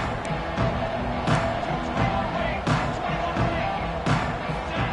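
Stadium crowd noise from the CF26 college football video game, a steady roar of a large crowd with periodic swells and thumping accents throughout.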